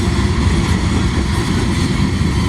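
Freight train with a distributed power unit locomotive rolling past, a loud, steady low rumble and broadband roar that holds without a break throughout.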